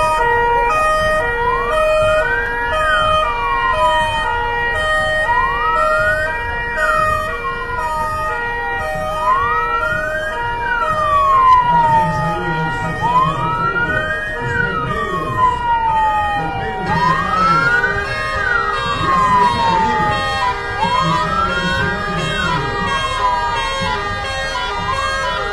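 Fire truck sirens from a Magirus ladder truck in a town parade, a loud wailing siren sweeping up and down repeatedly with steady tones and horn blasts layered over it, continuous throughout with crowd and engine noise beneath.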